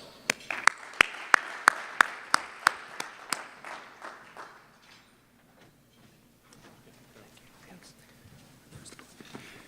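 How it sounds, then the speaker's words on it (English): An audience greets a keynote speaker at a legislative policy forum luncheon with a short burst of sharp, distinct claps, about a dozen spaced hits, which quickly fade into faint room noise and quiet movement. "So let's give Chuck a round of applause."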